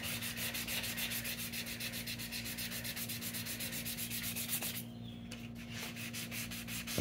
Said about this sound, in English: I just want to sand it a little bit and get some of that glossy off.